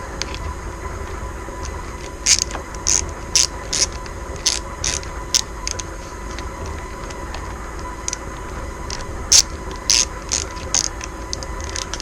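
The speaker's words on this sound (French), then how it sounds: "Je prends avec la clé dynamométrique pour serrer ça correctement" A torque wrench ratchets in short bursts of sharp clicking, irregular strokes tightening a part on a 2003 KTM LC4 motorcycle, over a steady background hum, close by with no talking.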